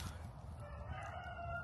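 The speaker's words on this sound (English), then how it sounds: "Here's a rooster in the background." A rooster crows faintly in the background, one drawn-out call rising and holding over steady outdoor noise, with no one talking.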